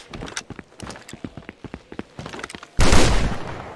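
A series of sharp gunshot cracks at moderate distance, irregularly spaced over a few seconds, followed by a heavier, louder burst of sustained noise near the end.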